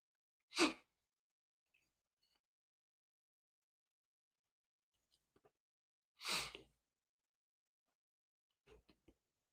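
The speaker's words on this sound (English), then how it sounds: "I sneeze so much, man." Two sharp, close sneezes several seconds apart in an otherwise quiet room, with a few faint breaths and small sounds between.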